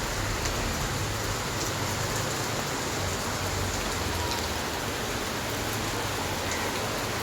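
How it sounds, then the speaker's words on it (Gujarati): Heavy unseasonal rain pours down in Mumbai as a dense, steady roar of drops on surfaces, constant and fairly loud throughout with no voices. "ખૂબ જ વરસાદ છે."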